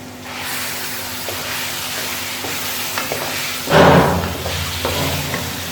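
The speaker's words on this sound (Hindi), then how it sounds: "इसे हमने उस वक्त तक फ्राई करना है जब तक इनका कच्चापन ख़त्म ना हो जाए।" Beef liver pieces frying with garlic and ginger in a pan, a steady close sizzle with scraping stirs and a brief louder burst of hissing midway, no talking.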